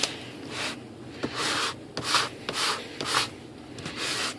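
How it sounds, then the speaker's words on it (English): Repeated rough sanding strokes, a sanding block rubbing lengthwise back and forth in steady bursts on an RC glider's aileron and flap, close and fairly loud with brief pauses between passes. "I'm just using a sanding block, nothing special. Just go lengthwise."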